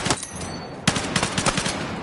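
Bursts of M277 carbine fire in Battlefield 6, a short volley, a brief gap, then a denser run of rapid shots, loud and close.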